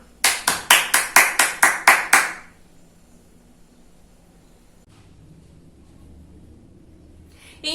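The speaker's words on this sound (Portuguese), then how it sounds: "Sempre quando a gente acaba com uma história, a gente bate palmas." Nine loud, evenly spaced hand claps at a brisk steady rhythm after a children's storytelling session, followed by near silence with faint room noise.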